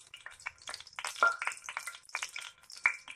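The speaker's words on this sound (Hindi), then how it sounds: "जीरा हमारा हल्का सा फ्राई होते हैं" Cumin seeds crackle and sizzle in hot oil for a dhaba-style desi chicken shorba, with a busy run of sharp pops and spits that comes in uneven bursts, close and fairly clear.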